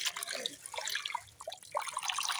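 Spinach and bathua greens rinsed by hand in water, with continuous splashing, sloshing and dripping close by.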